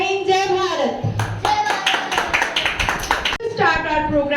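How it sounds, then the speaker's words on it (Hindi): An audience at an Independence Day celebration claps in bursts after a speech, with a sustained round of applause between stretches of talk. "Clapping"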